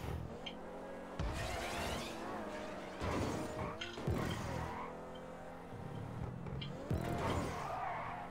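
A car power-sliding in the GTA 5 video game, with a revving engine and tire skids sweeping up and down over several seconds, and voices talking underneath.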